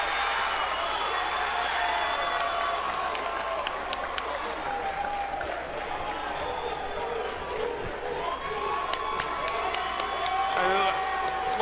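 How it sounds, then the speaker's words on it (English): A crowd at an MMA fight cheers and applauds loudly and continuously after a first-round submission finish at RUF 62, with whoops and clapping filling the arena and a commentator talking over it. "But crowd is on fire."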